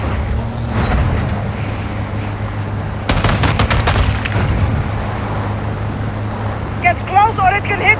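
Gunfire in Call of Duty Modern Warfare II rattles out as a burst of sharp cracks amid a rumbling vehicle drone, with scattered shots before and after and a voice talking over it.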